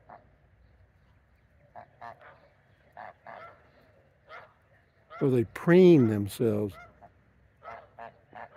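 Geese on a morning walk give a series of loud, close honks in a sudden burst, with softer scattered calls before and after, while someone talks nearby.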